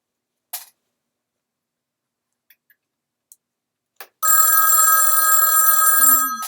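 A phone rings loudly and electronically after a few faint clicks, its bright ringtone sounding continuously for the last two seconds.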